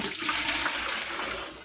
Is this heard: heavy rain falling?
no